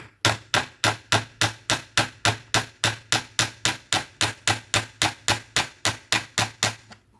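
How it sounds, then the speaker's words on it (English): Hammer strikes on a rivet securing a metal strip along the bottom of an RCA Victor 26BP radio case, about 22 sharp, evenly spaced blows in a steady rhythm, close and loud with no talking. "This is the other strip on the bottom. I'll just rivet that over."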